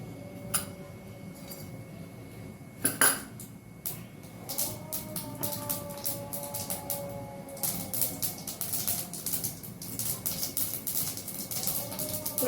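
Half a spoon of mustard seeds crackles in about three spoons of hot cooking oil. After a few isolated pops and a clink, a rapid burst of sharp pops builds, with faint background hum.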